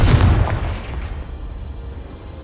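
A Confringo fire spell blasts in Hogwarts Legacy, one loud, deep booming explosion with a heavy low-end burst that rolls away into a fading rumbling tail.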